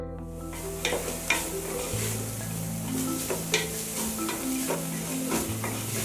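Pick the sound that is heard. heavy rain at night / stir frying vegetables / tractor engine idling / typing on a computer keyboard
stir frying vegetables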